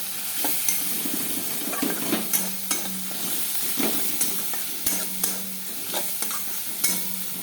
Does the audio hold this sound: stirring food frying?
yes